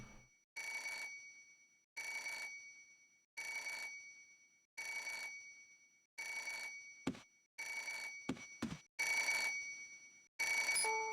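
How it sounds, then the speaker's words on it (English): A telephone rings in the video game Parasite Eve II, with repeated bursts of bright electronic ringing evenly spaced about every 1.2 seconds, then briefly broken by a few sharp clicks near the end. "It's only a telephone, calm down, kid."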